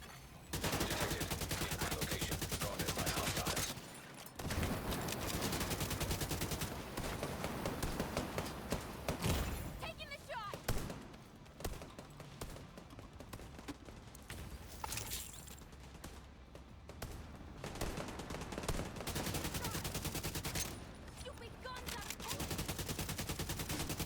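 Gunfire in The Division 2 during the Battle for Brooklyn, dense bursts of automatic shots with scattered thuds, continuous and loud over most of the stretch with a few short lulls.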